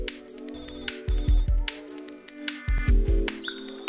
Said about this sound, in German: Wir versuchen, den Ball zu hören,